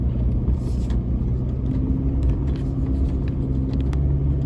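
A Toyota Hilux climbs an overgrown rocky bush track, its engine a steady close rumble with a low drone throughout and no talk over it.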